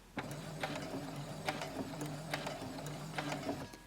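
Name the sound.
sewing machine stitching forward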